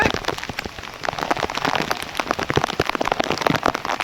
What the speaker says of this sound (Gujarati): જોરદાર વરસાદ થઈ ગયો અત્યારે